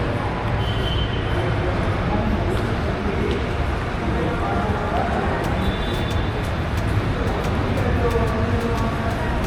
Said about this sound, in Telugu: ప్రజెంట్ అయితే మనం కరీంనగర్ రైల్వే స్టేషన్లో ఉన్నాం.